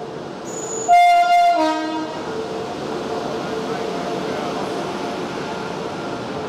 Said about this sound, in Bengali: এই যে দুরন্ত ঢুকছে